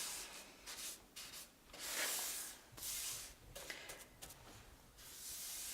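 A round bristle brush working red paint onto wood, producing soft, close swishing and rubbing strokes in uneven bursts of brushing with short pauses between.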